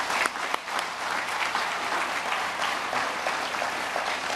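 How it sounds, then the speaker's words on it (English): An audience applauds steadily at a rocket launch site and factory unveiling event in Cape Canaveral, a dense, continuous clapping that stays loud and even throughout with no voices over it. "So I'd like to give Frank a big round of applause."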